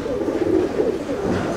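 Chennai breed pigeons in a loft, soft low cooing close by, a brief steady murmur of calls without speech.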